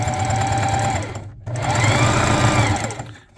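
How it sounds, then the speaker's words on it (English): Sewing machine stitching while a hockey jersey is being made: a loud, fast, steady mechanical whirr running for about a second, a brief stop, then a second longer run that winds down at the end. "Such is the baffling nature of sewing machines"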